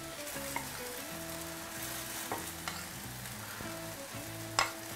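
Tofu fries in a wok with roasted chili sauce, a steady sizzle running throughout, with a few sharp spatula scrapes and clacks against the pan, the loudest near the end.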